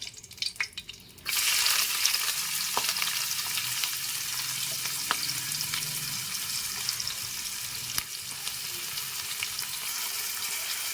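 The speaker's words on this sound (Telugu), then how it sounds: "ఆనియన్స్ అన్నీ వేసిస్తాం కలుపుదాం" Onions sizzle steadily in hot oil with cloves, cinnamon and bay leaf in a pan for a ridge gourd curry, a loud continuous hiss that starts abruptly, with faint stirring taps throughout.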